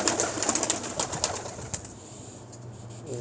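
Pigeons flutter and call nearby, with scattered short bursts of wing flaps and soft vocal sounds in the first half, then quieter background.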